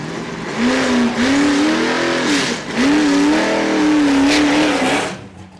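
A Nova drag race car at Saskatchewan International Raceway accelerates hard down the strip, its engine note rising in several sharp gear-by-gear sweeps, loud and close before fading away at the end.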